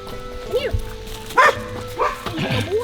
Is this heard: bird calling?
no